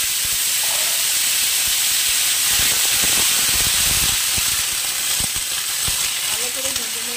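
Water lily stems frying in a pan with dried chillies and radhuni seeds give a steady, loud hiss and sizzle throughout, with soft crackles and faint stirring clatter.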